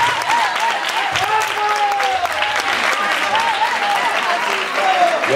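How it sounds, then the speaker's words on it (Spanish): Applause for a guest at a Spanish-language public event, steady dense clapping throughout with crowd noise and some voices underneath, fairly loud and close. "Un aplauso para él"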